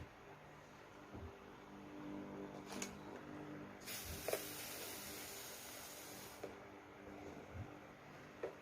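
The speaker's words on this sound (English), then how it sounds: "I'll spray my water and I'll iron." Soft hissing spray bursts of water onto fabric before ironing a high neck collar, with a longer mist spray in the middle, over a quiet background hum.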